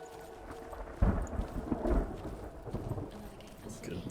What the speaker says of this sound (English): Good thunder crack too.